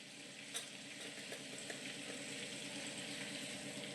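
Cumin seeds dropped into hot fat in a pan for butter paneer produce a steady, close, hissing sizzle with faint crackles that continues evenly throughout, with no talking.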